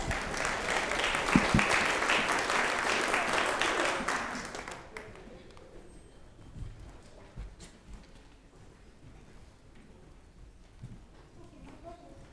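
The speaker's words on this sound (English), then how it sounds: "Can you please give these young men a round of applause?" An audience claps for a group of young boys at a church children's moment, a loud burst of applause that fades away after a few seconds into quiet room noise.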